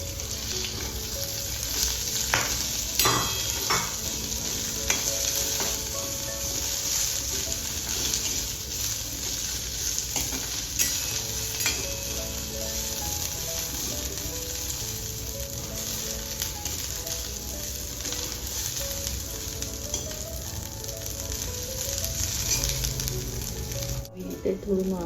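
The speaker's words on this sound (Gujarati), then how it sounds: "મરચાંને ખાલી થોડા સાંકળી દેવાના છે તેલની અંદર." Green chillies, garlic and coriander frying in hot oil in a pan, a continuous loud sizzle with occasional stirring scrapes and crackles throughout.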